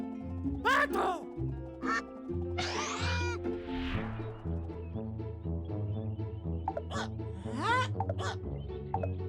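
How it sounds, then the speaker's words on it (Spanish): A cartoon-style duck quacks several times in bright bursts over cheerful children's music, with a voice-like sweep near the middle. "¡Pato, pato!"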